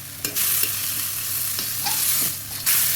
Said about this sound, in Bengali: এখন কষায় নিয়ে আমি মাছগুলো দিয়ে দিচ্ছি।